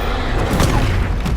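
A Confringo fire spell explodes in the Hogwarts Legacy video game, a brief, loud, booming blast with a rumbling burst at its peak, all within little more than a second.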